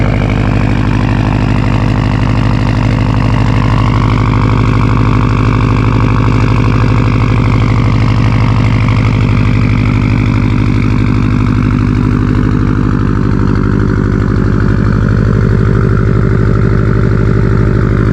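A Subaru STI idles while warming up, its steady low engine drone holding constant and close throughout, with a faint higher whine layered on top and no talking.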